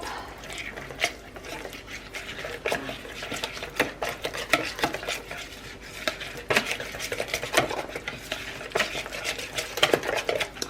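A spoon stirs vanilla into pumpkin pecan cobbler batter in a bowl, giving a steady run of soft scraping and clinking strokes close by, with no talking.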